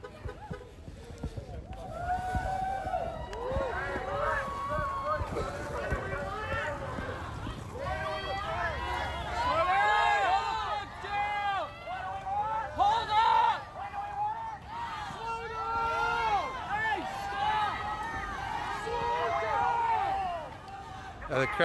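A street protest against police brutality in Dallas, June 2020, with a crowd marching past in a steady shuffle of many footsteps and a general hubbub, while someone talks close by over the noise.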